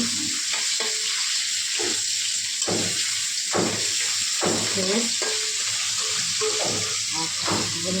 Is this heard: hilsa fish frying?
yes